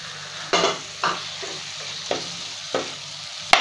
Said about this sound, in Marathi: मी कोलंबी याच्यामध्ये टाकते.